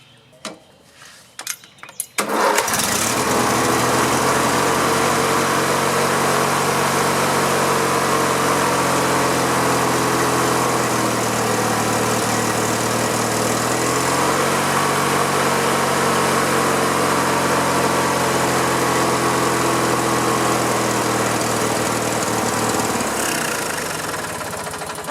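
A riding lawn mower engine, just primed with starting fluid, catches after a few sputtering attempts and then runs steadily and loudly close by for about twenty seconds before cutting out near the end.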